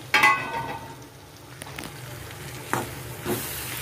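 Chickpeas fry in oil and masala on a gas stove. A steady soft sizzle runs throughout, broken by a few louder scraping stirs at the start and later on.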